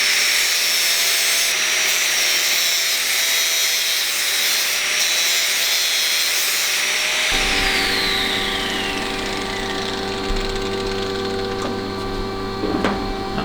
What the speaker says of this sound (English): Now that doesn't quite fit there, so I'll grind a little bit off of that, a little bit off of that end,